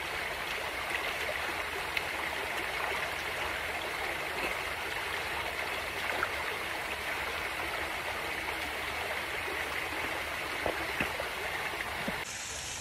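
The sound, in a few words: flowing stream water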